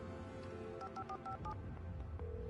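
A telephone is dialed in Alan Wake Remastered, a quick run of about six touch-tone beeps in even succession, followed by a steady tone, faint against a low background hum.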